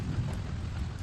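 Steady rain falls in a continuous dense hiss with a low rumbling undertone, even and unbroken for the brief moment, no voices present.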